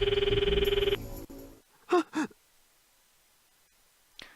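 A phone ringing in the Steins;Gate 0 video game: a steady electronic ringtone pulses for about a second and cuts off, followed by a couple of soft breaths or sighs.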